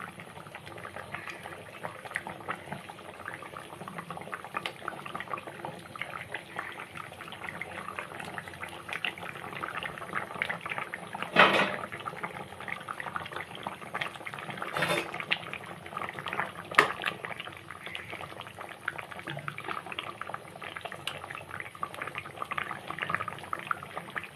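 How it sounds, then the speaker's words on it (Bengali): A thin silver carp fish curry with taro, sweet potato and ridge gourd bubbles at a steady simmer in a pot, with soft continuous boiling and a few sharper pops and knocks close by. "তরকারিটা খুব ভালো মতো ফুটছে"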